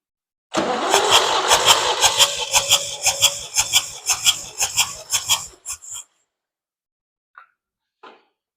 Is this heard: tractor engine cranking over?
yes